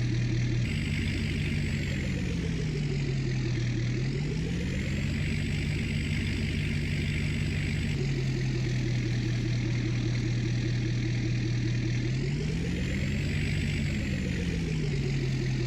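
Loud, steady drone of a big tractor engine idling in Farming Simulator 19, with two brief smooth revs up and back down, and no talk over it.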